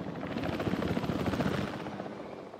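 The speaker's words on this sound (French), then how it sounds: "il y a l'hélico qui décolle" A helicopter lifts off in the video game Jurassic World Evolution 3, its rotor giving a loud, steady, rapid thudding throb that holds for a couple of seconds before easing slightly at the end.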